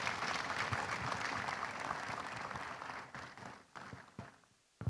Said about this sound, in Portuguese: Já agora uma salva de palmas da plateia para fechar.